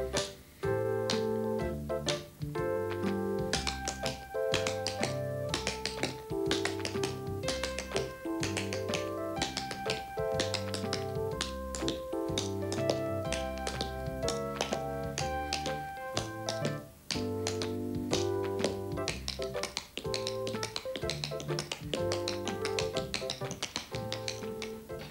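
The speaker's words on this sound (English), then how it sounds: "when you tap them on the floor, they make a nice tapping sound" Leather-soled tap shoes strike a floor in quick rhythmic clicks during a dance, layered over steady instrumental music.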